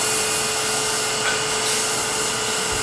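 Steady, loud abrasive rush of 220-grit sandpaper pressed against a spinning wooden Christmas ornament on a lathe, continuous and unbroken with the motor's hum underneath.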